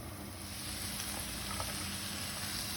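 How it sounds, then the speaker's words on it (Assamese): Potatoes and bottle gourd peels fry in a covered pan over low heat, giving a steady, even sizzle that holds at the same level throughout with no talk. "এনেকৈ মই ভাজিম আৰু ভজালৈকে দেখুৱাম।"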